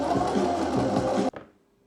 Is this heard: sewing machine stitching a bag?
yes